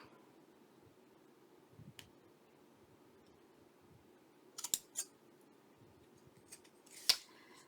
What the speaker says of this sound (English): let me see if I can use my little scissors. Trim this up just a little bit better.